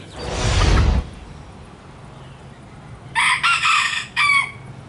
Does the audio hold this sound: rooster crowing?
yes